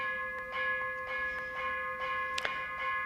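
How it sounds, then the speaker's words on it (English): Faint, high bell tones from a Vietnamese Buddhist ritual struck several times in a loose rhythm, their ringing sustained beneath a quiet background hiss, no talking. "ringing bells in a Vietnamese context"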